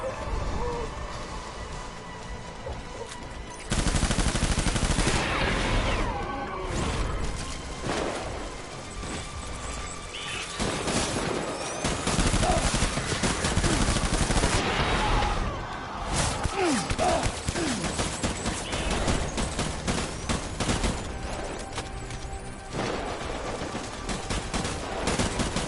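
Loud bursts of gunfire in Death Stranding, dense, rapid volleys that keep repeating over about twenty-five seconds with chaotic noise between them and no speech.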